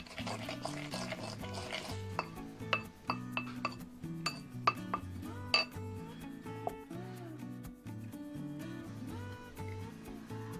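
Soy sauce and rice vinegar dressing stirred in a bowl for a cold dried tofu dish, a series of light clinks and taps of utensil against bowl over steady background music.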